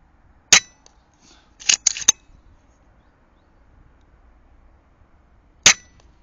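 Rifle shots fired while testing a ballistic calculator on a night-vision scope: sharp, fairly distant cracks, one near the start, a quick cluster of two or three about a second later, and a final lone shot near the end, with quiet between.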